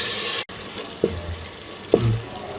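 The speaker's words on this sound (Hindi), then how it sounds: "इसमें हम थोड़ा सा पानी शामिल करके इसको ढक के थोड़ी देर के लिए पकने देंगे" Water splashes into tomato masala frying in a pan for a maghaz (brain) masala fry: a loud, rushing pour cuts off abruptly, then hissing sizzle bursts twice, close by.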